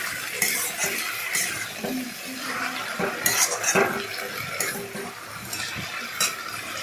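Jute leaves being stirred into hot oil in a pan for patpata dal, a soft sizzle under repeated scraping and clinking of a metal spoon against the pan, close and irregular.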